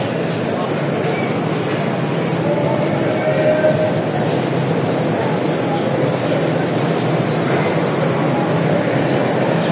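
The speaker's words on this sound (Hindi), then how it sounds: "वो रही सामने चारों सुबह की ट्रेन जाफर एक्सप्रेस।" The Jaffar Express stands at a station platform, a constant loud rumble of the train and station noise throughout, with faint squeals and murmuring voices in the background.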